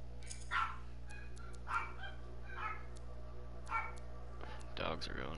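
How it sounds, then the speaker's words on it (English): Several dogs bark in short, spaced bursts, moderately close, over a constant low electrical hum. "Dogs are going nuts."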